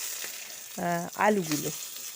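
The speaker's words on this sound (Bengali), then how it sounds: "আলুগুলো একটু ভালো করে ভাজা করে নেব" Potatoes fry in a pan of hot oil with tempering spices for a mixed vegetable curry, giving a steady close sizzle throughout with a short tonal sound rising over it midway.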